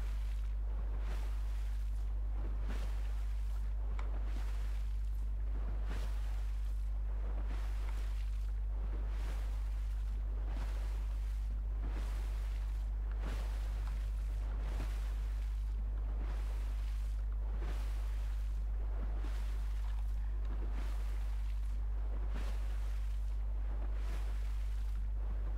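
A boat moves across open water in the Fortnite video game, with a steady low engine drone and a regular rhythm of splashing, rushing wash and wind noise repeating through the whole stretch, with no talking.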